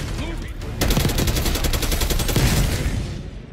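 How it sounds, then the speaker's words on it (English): Explosions and gunfire from a grenade blast in the video game Call of Duty: Black Ops 6, with a loud broadband burst near the start followed by sustained rapid crackling shots and rumble for several seconds. "That's a grenade."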